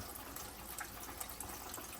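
Warm water at about 100 degrees runs steadily from a tap in a small cabin with a newly installed hot water system, a continuous broadband rush of flow with no pauses and no voices.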